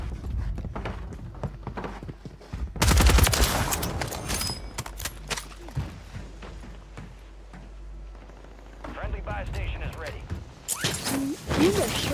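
BAL 27 rifle fire in the video game Warzone 3, heard as loud bursts of gunshots that come and go amid busy game noise, with a voice talking over parts of it.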